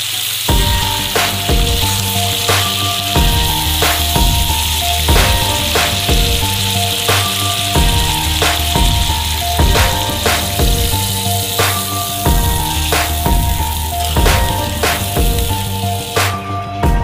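Chicken for Kolkata-style biryani sizzles loudly in hot oil after browning, with a steady crackling fry and rhythmic stirring knocks repeating throughout, close and alone with no talk.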